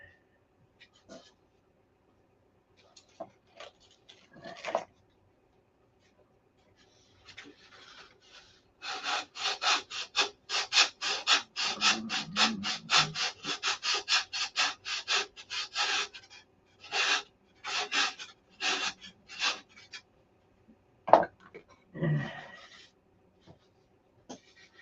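Balsa trailing edge of a Viper model aircraft being sanded, a fast rhythmic run of rasping strokes, then scattered shorter strokes after quiet gaps, close and fairly loud.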